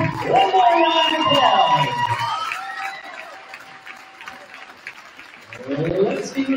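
Gym crowd at a high school girls' varsity basketball game cheering and clapping for seniors and their parents, a loud burst that fades into scattered shouts, then swells again near the end, with voices mixed in.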